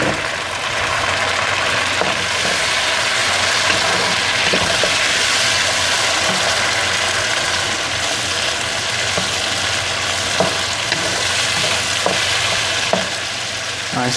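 Onions fry toward golden brown in a pan for beef qeema with peas, giving a loud, even, unbroken sizzle from start to finish with no voices.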